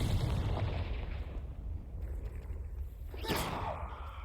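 A Confringo blasting spell going off in Hogwarts Legacy: a loud low boom with a rumbling tail, then a sharp crackling burst shortly after, with no voices.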